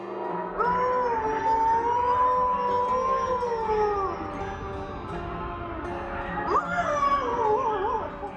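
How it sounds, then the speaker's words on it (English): A coyote howls just outside a house wall, with long sustained rising and falling wails that fill the clip, a brief break, then a fresh wavering howl near the end; close and loud. "we know coyotes aren't really that scary, but Chris sure jumped when it started howling right on the other side of the wall"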